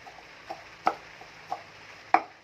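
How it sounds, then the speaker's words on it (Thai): Thai fish-cake prep: fish meat being pounded with curry paste in a mortar, giving a handful of sharp, separate thuds spaced about half a second apart, close and fairly loud with no voices. "แล้วเดี๋ยวเราจะตำนะครับตำปนกับ พริกแกงนะครับ ให้เข้ากันเลยนะครับ"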